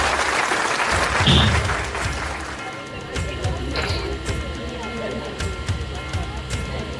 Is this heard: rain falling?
no